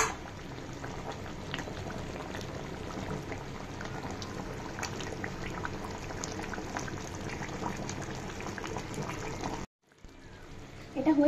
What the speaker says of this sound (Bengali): এটা খানিকক্ষণ ফুটে নিই